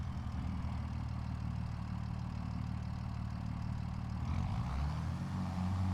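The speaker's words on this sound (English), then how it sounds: "So this is how we will operate the tractor while we are stacking our bales" A tractor engine runs steadily while hay bales are stacked onto a trailer on a North Carolina farm, a continuous low idle drone that shifts in pitch and grows rougher near the end.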